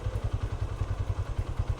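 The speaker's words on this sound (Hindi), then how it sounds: "मैं इंजन के ज़ोर पे ही उतार रहा हूँ।" Suzuki GR 150 motorcycle engine braking on a downhill mountain road near Nathia Gali, a steady low, pulsing engine thrum with rapid rhythmic beats, close and moderately loud, no talk.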